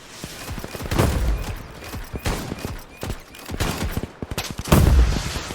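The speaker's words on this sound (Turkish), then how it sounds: "Şuradaki 3 bin arasından bir roket atabilir miyim? Evet attım." Rocket launcher fire in the Roblox Iron Man simulator game: several sharp blasts at irregular intervals, loudest near the start and end, with busy game noise between.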